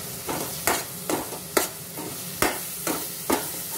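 Ground spice paste with turmeric frying in a pan, stirred in regular strokes: a soft continuous sizzle broken by evenly spaced scrapes about every half second, close up and without talk.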